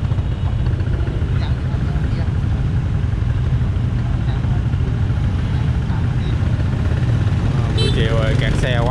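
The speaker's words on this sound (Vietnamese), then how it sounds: "quá trời xe máy luôn." Heavy motorbike traffic fills an afternoon street in Saigon with a dense, steady roar of many engines, loud and unbroken throughout.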